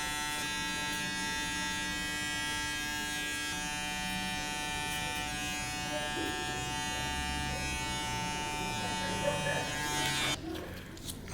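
An Andis Recon hair clipper buzzes continuously while cutting hair, a steady close electric hum with faint crunching strokes, cutting off near the end.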